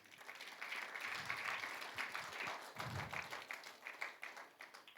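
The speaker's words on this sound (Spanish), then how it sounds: "Démele un aplauso, Señor" A church congregation applauds to honour the Lord with faint, fairly distant clapping that rises and falls unevenly across several seconds, joined by a few low thumps.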